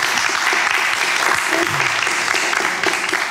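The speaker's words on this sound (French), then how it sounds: "Ça vaut des applaudissements" An audience applauds after a recital of a La Fontaine fable at the Château de Voltaire in Ferney, with a dense, steady clapping that fades slightly at the end.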